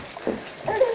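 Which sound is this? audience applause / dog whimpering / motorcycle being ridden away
dog whimpering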